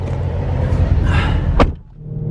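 Mercedes C63 AMG engine starting up: a low rumble builds into a single sharp, loud rev flare, then drops quickly to a deep, quieter idle.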